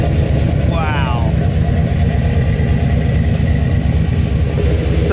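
A classic car engine idles steadily with a deep, rumbling low-end throb, loud and close throughout, with a brief higher whine early on.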